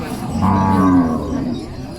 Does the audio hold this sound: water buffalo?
yes